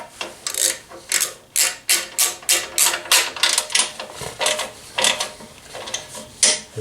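Bolts on an AltRider skid plate being snugged up on a Honda Africa Twin CRF1000L, a steady run of sharp, close ratchet clicks in quick bursts of about a dozen strokes, with no talk.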